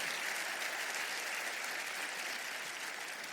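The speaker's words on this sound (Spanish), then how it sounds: "Cuánto le dan un aplauso al Señor por la vida de nuestro pastor César Castellanos" A church congregation breaks into steady, dense applause that fills the whole stretch evenly, with no voices rising above it.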